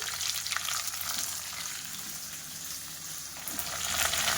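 Steady sizzling of cluster beans being stirred in a frying pan, a continuous crackling hiss with faint stirring movement, close by with no talking.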